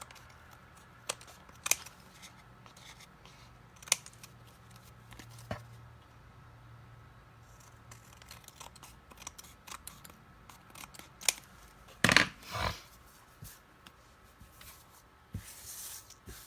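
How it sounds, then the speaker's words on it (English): Scissors snipping through paper card scraps while trimming off excess, a handful of short, sharp cuts scattered across quiet room tone, with a louder burst of paper handling near the end. "We have to cut all the extra off here."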